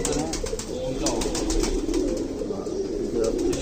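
Pigeons coo steadily at a breeder's loft holding Indian Kaldum-type and Golden-cross birds in Khulna, Bangladesh, a dense, continuous murmur of overlapping low calls close by with no talk.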